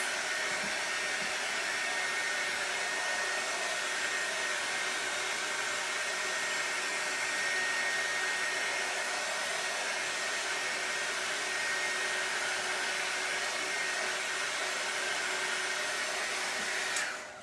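A hair dryer runs steadily at close range for the whole stretch, drying a coat of Mod Podge on a decoupaged oyster shell craft, a loud continuous blowing whir that cuts off right at the end.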